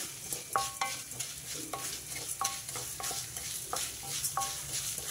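Seeds and fenugreek roast in a pan with a soft steady sizzle, broken by repeated close scraping strokes of a spoon stirring, with no one talking.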